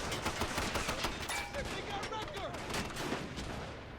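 Dense, continuous gunfire in a WWII Pacific battle on Tarawa atoll, rifles and machine guns firing on a bunker, overlapping rapid cracks and bursts with distant booms throughout.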